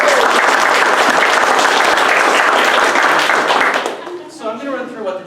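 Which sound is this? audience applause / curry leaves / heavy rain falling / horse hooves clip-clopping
audience applause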